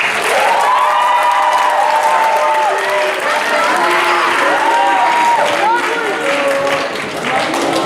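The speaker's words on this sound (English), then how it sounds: "can we get one really big round of applause for our judges?" Loud audience applause with cheering fills a high school talent show hall, sustained and dense throughout, with shouted voices and whoops rising over the clapping.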